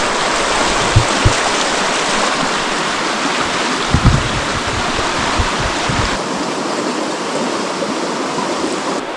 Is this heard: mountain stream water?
yes